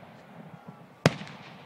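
A single sharp fireworks burst cracks out at an outdoor fireworks show, one loud bang rising over a low steady crowd murmur before the finale.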